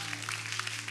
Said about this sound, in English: Let's give him another hand clap this morning.